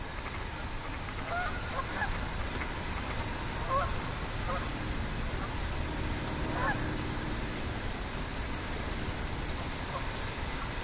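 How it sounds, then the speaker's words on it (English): Mallard ducks on a wildlife management area, giving scattered faint calls at a distance under a steady wash of outdoor background noise. "up a little bit closer are some mallards"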